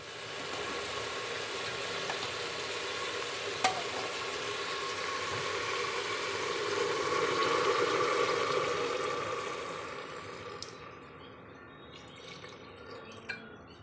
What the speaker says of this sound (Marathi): तर आता ह्यामध्ये आपल्याला गरम पाणी ॲड करायचं आहे.